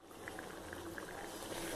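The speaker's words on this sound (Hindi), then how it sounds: "इसे मिक्स कर लेती हूँ और 1 बॉयल आने देती हूँ।" A spiced masala mixture for parval sabji comes to a boil in a pan, giving off a soft, steady, low bubbling and simmering hiss, faint and continuous with no talking.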